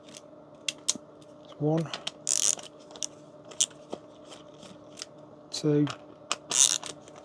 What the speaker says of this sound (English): let's get this screwdriver to work. Take out the 4 Phillips screws.